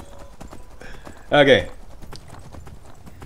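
Horse hooves clip-clop in a steady, faint rhythm during a horseback ride in the video game Skyrim. A short spoken word cuts in briefly over the hoofbeats.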